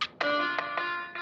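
A mobile phone ringtone for an incoming call plays loud and close, a bright repeating melodic pattern of clipped tonal notes over a quiet background.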